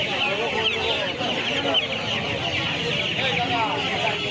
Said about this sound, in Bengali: এগুলো চীনা মুরগি আছে।